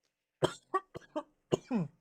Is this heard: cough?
yes